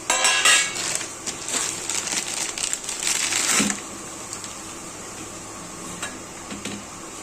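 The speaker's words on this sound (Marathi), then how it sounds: "हा गूळ किसून घ्यायचा आता" Jaggery grated by hand on a metal grater into a vessel, with rapid rough scraping strokes in bursts, close and loud, then quieter with a few scattered scrapes.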